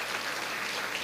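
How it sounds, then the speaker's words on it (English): A short stretch of sustained crowd applause, a full room of attendees clapping evenly throughout with no talking. "So give yourselves a round of applause for being here."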